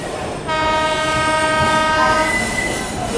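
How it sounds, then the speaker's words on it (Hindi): A passenger train hauled by a WAP7 electric locomotive passes close by at an Indian Railways station, its loud, sustained horn sounding almost throughout over a steady rolling rumble. "सामने में किसी ट्रेन का अराइवल हो रहा है, WFP7 लोकोमोटिव के साथ हमें क्रॉस कर रही है।"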